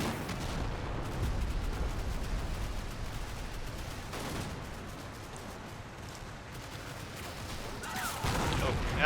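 Booming artillery and gunfire in the Combat Mission war game, a dense rumbling battle din with sharper blasts near 4 and 8 seconds, fairly loud and continuous with no talk.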